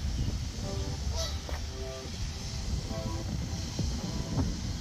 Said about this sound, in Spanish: Son patos pequeños.